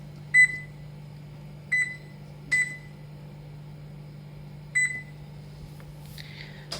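Kitchen oven timer being set to 45 minutes while pumpkin pies bake, giving four short, sharp electronic beeps spaced irregularly over a steady low appliance hum, with a brief rustle at the end.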